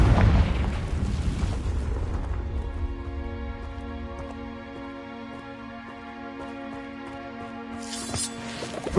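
Confringo explosion spell cast in a Harry Potter video game: a loud burst opens, then a sustained ringing tone holds and slowly fades, with a brief flare near the end.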